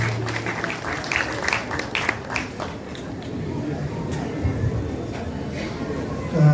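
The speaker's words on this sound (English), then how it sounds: "If you have chosen to clap, clap." An audience at a primary school music festival award ceremony applauds, a dense crackle of clapping that builds then thins out, with a voice speaking over part of it.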